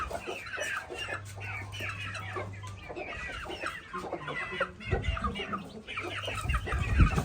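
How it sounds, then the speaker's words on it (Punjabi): Several chickens cluck steadily and close by throughout, young birds of a fighting rooster among them, with occasional louder fowl calls and no speech. "ਆਹ ਕੁੱਕੜ ਦੇ ਬੱਚੇ"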